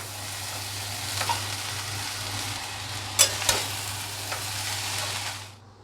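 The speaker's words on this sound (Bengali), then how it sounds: "এবার রাইসটা এর মধ্যে দিয়ে দিতে হবে আস্তে আস্তে আস্তে আস্তে আঁচ কমিয়ে এবার এগুলিকে মিশিয়ে নিতে হবে।" Cooked rice being stirred into a scrambled egg mixture in a hot pan over lowered heat, a soft continuous sizzle with scraping strokes and a couple of sharp spoon clinks near the middle, fading out at the end.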